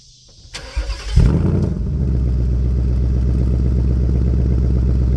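A Ford Mustang GT Premium engine, not cold, cranks briefly, then roars to life and settles into a loud, steady, deep rumbling idle.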